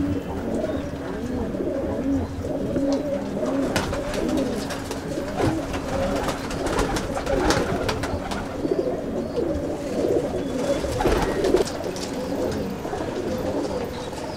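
Kasuri pigeons cooing in a loft, their soft repeated coos overlapping nearby alongside faint wing rustles and shuffling.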